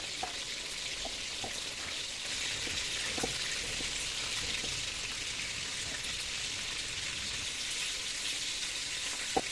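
Small anchovies fry in a pan for sambal petai, giving a steady, close crackling sizzle with scattered louder pops throughout and no talking.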